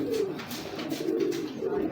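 A tame pigeon coos in soft, repeated rolling phrases close by, steady and continuous with no voices over it.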